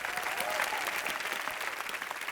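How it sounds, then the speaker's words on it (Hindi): Studio audience applauding for actor Pulkit Samrat on a Hindi TV comedy show, a dense, steady wash of clapping that holds at an even level throughout. "जोरदार तालियां बजाओ भैया पुलकित सम्राट के लिए।"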